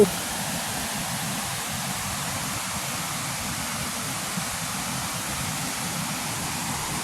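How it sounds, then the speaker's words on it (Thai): Steady, powerful rush of a fast river roaring without a break over rocky rapids at Kaeng Som Maeo, Suan Phueng, Ratchaburi, in the rainy season, dense broadband noise close by, with no voices. "โอ้น้ำแรงมากเลยค่ะ เสียงน้ำน่ากลัวนะคะ"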